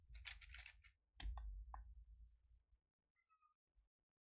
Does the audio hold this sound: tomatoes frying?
no